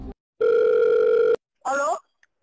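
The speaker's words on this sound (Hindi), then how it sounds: "मेरे पुराने दोस्त बर्बाद सिंह को फोन लगाया जाए।" A steady telephone ringback tone sounds for about a second, followed after a short gap by a brief voice on the line.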